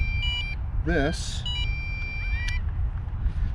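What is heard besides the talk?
MJX Bugs 6 drone controller beeping after drone unplugged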